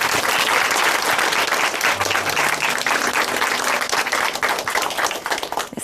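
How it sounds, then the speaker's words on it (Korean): A church testimony-program audience applauds in congratulation, a dense, steady wash of many clapping hands filling the whole span at full strength, tapering slightly only at the very end. "다시 한번 축하의 박수 같이 보내드리겠습니다."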